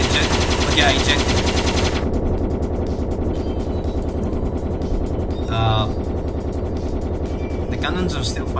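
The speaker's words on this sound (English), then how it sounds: "The cannons are still firing." Warship cannons and guns fire in the video game Stormworks, a dense rapid stream of loud, close shots with engine rumble beneath, a sharp burst of higher-pitched sound near the middle and speech mixed in.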